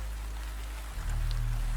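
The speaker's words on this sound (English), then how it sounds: "The rain in the walls is barely a sound now." Steady rain falls outside an old bookshop at night, a soft continuous hiss with a low rumbling wash underneath, unbroken and even throughout.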